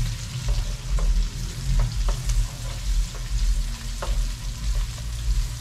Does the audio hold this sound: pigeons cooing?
no